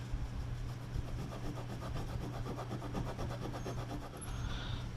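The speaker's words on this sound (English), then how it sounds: "let me do a little scrubbing right here in this area and see what we can do" Steady, close, low scrubbing on rusted metal of an old radio treated with naval jelly, a continuous rubbing rasp of quick repeated strokes with no talk.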